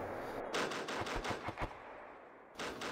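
High-explosive autocannon fires in a video game as a quick burst of about eight sharp, evenly spaced shots. The shots are fairly faint and sit under steady background noise, followed by a quieter stretch.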